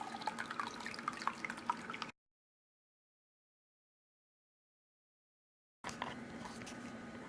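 Water pours and drips into a gold pan while leftover tailings are reprocessed, with soft, close trickling and dripping that cuts out to silence for several seconds before the water sound returns.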